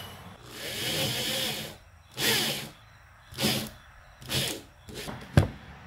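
A power drill starting a hole in a 2-inch tube while installing a flush mount rod holder, heard as several short bursts of high whirring and grinding separated by pauses, ending in a sharp click.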